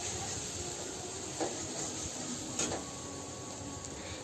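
Ginger and garlic fry in hot oil for an echor chingri, a green jackfruit and prawn curry, giving a continuous soft sizzling hiss with a couple of brief louder crackles and no voices.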